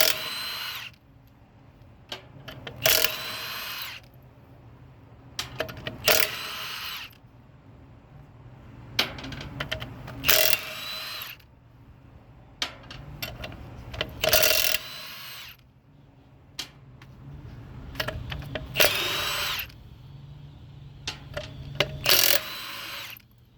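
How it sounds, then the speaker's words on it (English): An impact wrench spins lug nuts off a car wheel. It makes several loud, rattling bursts of hammering a few seconds apart, with quiet gaps in between. "You take the impact wrench. You have it in a direction where the lug nuts go."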